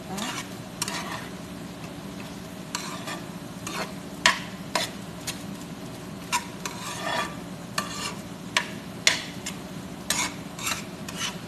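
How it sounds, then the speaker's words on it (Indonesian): A spoon stirs vegetable filling for bread rolls in a pan, giving repeated scraping strokes and clinks at an uneven rhythm over a soft, steady sizzle, close and without talk. "kita aduk-aduk semua"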